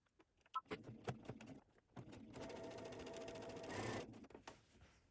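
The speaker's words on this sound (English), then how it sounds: "Now let's go sew our 1/4 of an inch." A sewing machine stitches a quarter-inch seam on a duffel bag with a quarter-inch foot. Several short stuttering bursts come first, then a sustained close whir for about two seconds before it stops with a few clicks.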